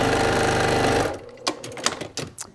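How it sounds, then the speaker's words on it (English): A sewing machine stitching quilt block rows along a quarter-inch seam, running loud and steady for about a second before stopping, followed by a few softer handling clicks and rustles. "So let me sew one of those rows and show you how that's going to go."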